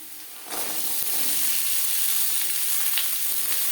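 Washed, drained potatoes drop into hot mustard oil tempered with black cumin, the quiet crackle jumping to a loud, sustained sizzle with faint stirring knocks underneath.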